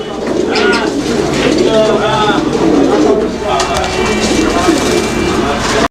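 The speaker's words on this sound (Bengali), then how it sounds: "এই দেখেন নরের ডাক" A male pigeon cooing up close, deep rolling coos repeating over a few seconds, with faint background noise.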